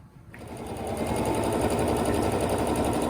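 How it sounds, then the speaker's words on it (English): A sewing machine stitches along a zipper for a van box cushion, starting after a short pause and then running in a steady, close, whirring hum. "we're going to go to the sewing machine and stitch along the zipper here."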